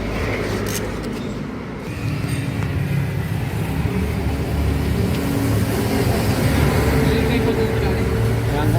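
A loud, noisy Ford Everest SUV engine idles and rumbles continuously with a rough, low drone, while people talk over it.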